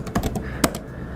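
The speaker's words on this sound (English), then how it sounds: "let's go ahead, let's start typing" Keys clatter on a computer keyboard during a keyword search, a short burst of close, loud taps with one sharper strike near the end, heard alone without talk.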